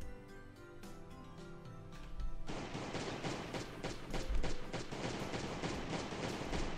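Pistol gunfire in the Last Day on Earth game, starting sparse and then turning into a dense, continuous volley of sharp cracks that fills the second half, loud and close with no talk over it.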